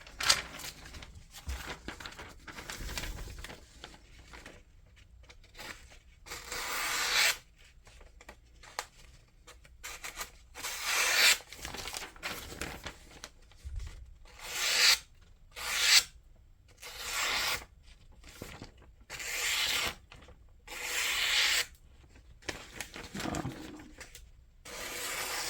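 A sharp Ganzo F753M1 folding knife slices through junk mail paper in repeated rasping strokes, some short and some drawn out, close and fairly quiet with brief pauses between cuts and no talking.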